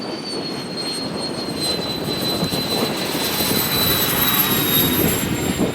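RC model F-35 Harrier-style jet flying overhead, a steady whooshing turbine roar with a thin high whine, holding fairly loud and even throughout, with no voices.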